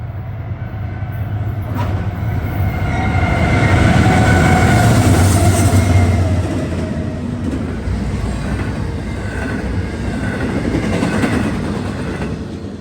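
Freight train led by two C6M locomotives rolls past near a depot, a loud continuous roar and rumble that swells to a peak midway, then holds steady as the cars keep passing.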